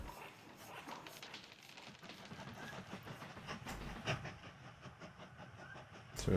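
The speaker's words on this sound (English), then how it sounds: "So we've got trains looping around there, gorgeous." Trains looping around a track in the video game Mashinky: a steady rolling rumble with rhythmic clickety-clack, fairly faint and continuous, with a brief louder knock near the end.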